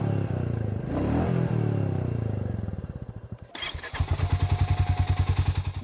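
A 350cc single-cylinder motorcycle engine revs loudly and close by, then the revs drop. It settles into a strong, evenly pulsing thump at idle.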